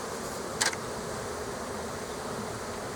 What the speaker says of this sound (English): now that we've found the queen, there's no need to shake all these bees off